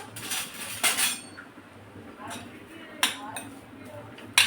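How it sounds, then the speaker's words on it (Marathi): A spoon clinks and scrapes against a kadhai while fresh grated coconut is mixed into ghee. Several sharp metallic taps are spread across a quiet background. "त्यामध्ये हा नारळाचा चव टाकायचा आहे, ओल्या नारळाचा, आणि मिक्स करायचं।"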